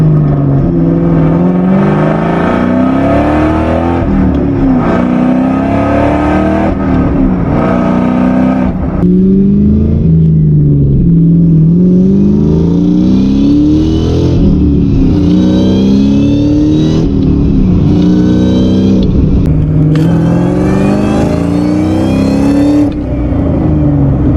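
A car engine with a supercharger runs and revs up and down from inside the cabin, with a thin supercharger whine rising and falling alongside the motor, steady and moderately loud.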